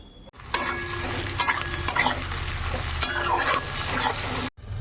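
Meat frying in a pan on a home balcony stove, a steady sizzle under repeated scraping and stirring strokes of a utensil against the metal, with a brief clatter near the end.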